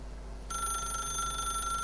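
An electronic telephone ring in The Stanley Parable video game starts abruptly and continues as a steady, shrill warbling tone over a constant low hum, loud and close with no talk.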